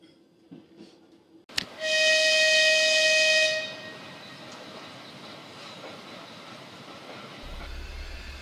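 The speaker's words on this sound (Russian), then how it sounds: "Поезд, что доставил меня на станцию, состоял из тепловоза и всего 2 вагонов" A short train of a diesel locomotive and two wagons at a station gives a sharp bang followed by a loud, steady whistle-like horn for about two seconds, then a lower rolling rumble continues.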